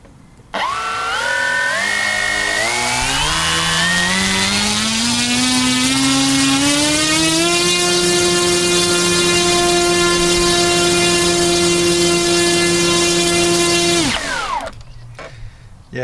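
A Robbe Air Trainer 140 model plane's electric motor on 4s power is throttled up slowly into a loud, rising whine, holds a steady high-pitched drone close by for several seconds, then cuts off abruptly.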